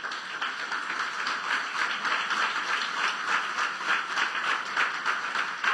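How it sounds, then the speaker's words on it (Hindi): A congregation at a church sermon claps loudly and steadily, a dense wash of applause that holds at an even level throughout with no voices standing out. "जोरदार तालियां बजा दें यीशु के जलाल के लिए।"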